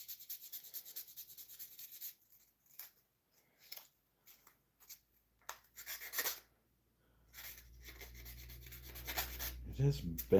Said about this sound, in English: that's getting the rust right out of the center of this V-gouge.